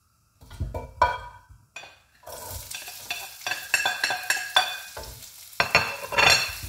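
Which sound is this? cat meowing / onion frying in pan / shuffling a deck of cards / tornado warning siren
onion frying in pan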